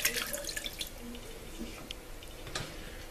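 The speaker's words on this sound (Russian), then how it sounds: "Теперь заливаем оставшимся маринадом" Leftover marinade is poured over Baltic herring laid in two rows in a multicooker, giving a soft, close trickle and a few drips of liquid that stay fairly quiet throughout.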